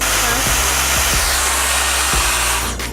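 A Dyson Supersonic hair dryer blows continuously while drying hair, a loud, close, airy roar that holds steady and cuts off at the very end.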